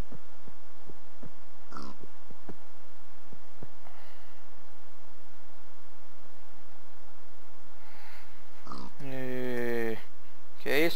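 A pig in Minecraft gives a few short nasal grunts near the end, loud and close, after a stretch of quiet soft thumps and a low background hum; a voice is present.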